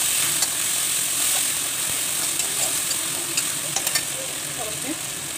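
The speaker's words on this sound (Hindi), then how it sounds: "अब हम इसमें मसाले ऐड करेंगे जो मैंने पेस्ट बना लिए हैं" Garlic, ginger, black pepper, cumin and coriander paste frying with onions in a pan for egg curry, giving a steady close sizzle with faint stirring scrapes and light clinks throughout.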